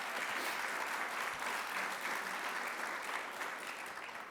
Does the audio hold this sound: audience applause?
yes